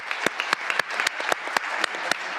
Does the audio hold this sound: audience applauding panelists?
yes